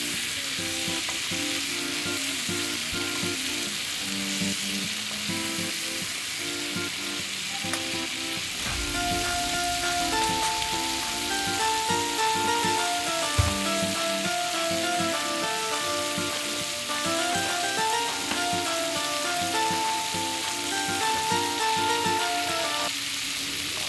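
Flat beans (sim) fry lightly in a pan with a steady, even sizzle and occasional stirring scrapes. Gentle background music plays throughout, with no talking.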